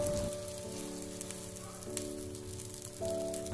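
Egg mixture for a bread omelette sizzling in a frying pan, a continuous crackling hiss spread across the clip with light pops, beneath a steady tonal hum that shifts pitch a couple of times.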